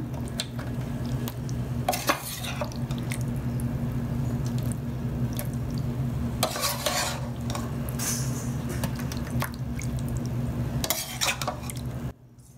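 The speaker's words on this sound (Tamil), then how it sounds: "ஸோ ஃபஸ்ட்டு வந்து நம்ம அந்த சிக்கன் போட்டுக்கிறோங்க" Cooked chicken being spooned into a pot of rice to layer a biryani, with soft squishing, stirring and scraping against the pot. Louder clanks of utensils come in bursts, up close, over a steady background hum, with no talk.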